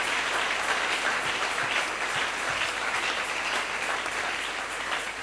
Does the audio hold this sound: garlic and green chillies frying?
no